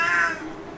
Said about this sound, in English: So my cat has visited.